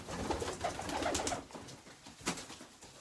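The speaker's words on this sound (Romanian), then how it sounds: "This is a soul pigeon for them." A pigeon in Bucharest cooing softly in a few low, throaty bursts, faint and somewhat distant under a breezy, noisy background.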